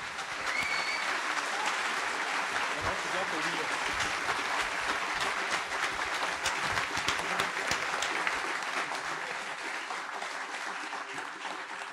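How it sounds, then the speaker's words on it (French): A round table audience applauds the participants of a discussion on free software, with sustained, even clapping from a fairly large crowd that continues for several seconds while some voices sound beneath it. "je pense qu'on peut applaudir les participants"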